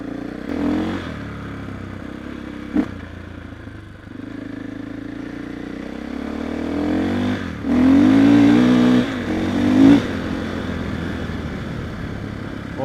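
A KTM 500 EXC-F supermoto motorcycle pulls away and rides off, its single-cylinder engine rising and falling through several revving surges, with a sharp clack early on and wind noise; no speech.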